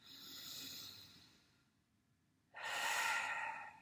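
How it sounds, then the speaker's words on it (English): One slow, deep inhale, then a quiet pause, followed by a louder breathy rush of air, close and soft with no other sounds around it. "Take a deep breath in"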